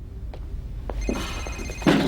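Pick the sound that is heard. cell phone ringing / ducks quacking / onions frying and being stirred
cell phone ringing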